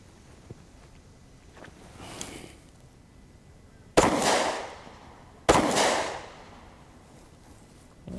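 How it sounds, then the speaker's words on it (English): Two sharp, loud handgun shots a second and a half apart, each ringing out with a long decaying echo, after some faint background rustling. "you're gonna draw your weapon and fire 2 rounds center mass"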